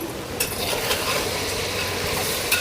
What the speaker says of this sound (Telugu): ఇప్పుడు ఒకసారి అయితే బాగా కలుపుకుందాం వెజిటేబుల్స్ అంతా బాగా మగ్గాయా లేదా అని